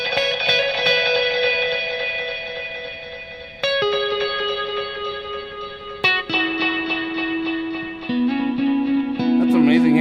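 Meris MercuryX reverb pedal turning sustained guitar notes into a shimmering, washy effect, with long ringing tones that step down in pitch every few seconds and stay loud and continuous.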